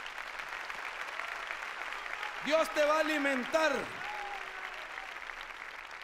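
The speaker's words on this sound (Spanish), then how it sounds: "dale palmas al Señor" Church congregation clapping during a Sunday sermon, a steady dense wash of applause running throughout while a preacher speaks over it in the middle.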